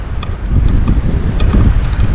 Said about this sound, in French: et il y a pas mal de vent ici.